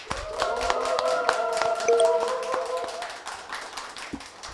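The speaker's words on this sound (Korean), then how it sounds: "여러분의 힘찬 박수와 함께 시작하겠습니다" A talk show opens with clapping from a small audience, quick irregular claps layered over a bright sustained musical tone that fades after about three seconds, leaving lighter scattered claps.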